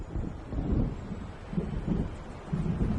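Low rumbling thunder from an approaching storm in the video game Alan Wake rolls on steadily for a few seconds, deep and moderately loud, with wind-like noise and no speech.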